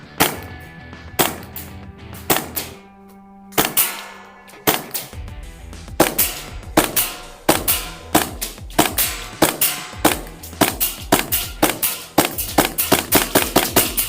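A TTI TP22 competition gas blowback airsoft pistol fires green tracer BBs in a steady series of sharp, loud snapping shots, close by, with short pauses between strings of rapid pops.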